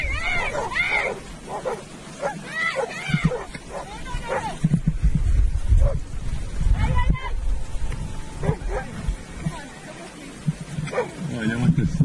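Several dogs bark and yip in chaotic bursts while confronting a big moose on a trail, the barking mixed with a person talking over it throughout.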